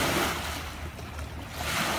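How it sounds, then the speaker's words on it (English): Water waves wash on the St. Lawrence River, a steady broad surf-like hiss mixed with wind noise, close and fairly loud, with no talking. "This is the St. Lawrence River."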